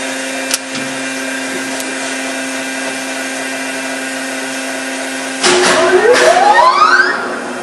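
A machine hums and whines steadily at the slow turning speed used to turn a locomotive wheel journal, with a rising whir and clatter joining near the end.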